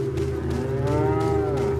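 Cows moo in the Resident Evil HD video game, a loud, close, drawn-out bovine call that stands alone without talk.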